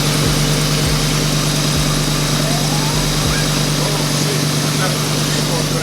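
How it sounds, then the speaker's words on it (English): A 1999-2004 Ford Mustang runs on a fresh battery, holding a loud, steady idle with a deep hum and faint low thumps pulsing beneath it. "put the battery in the Mustang, crank that shit up, and see what happens"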